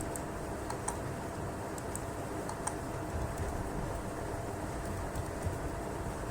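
Someone types an email address on a computer keyboard, producing soft, quick key clicks over a steady background hiss.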